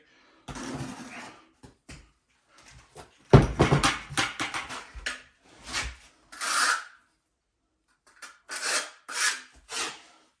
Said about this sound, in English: Tools you need, margin trowel, which is what I'm using